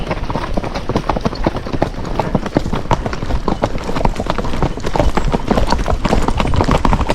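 Hooves of a gaited Marchador cross horse named Copper clip-clop steadily in a quick, even rhythm while ridden alongside other horses on a trail at Mt. Madonna, close and continuous throughout.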